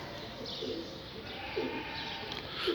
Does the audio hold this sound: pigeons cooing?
yes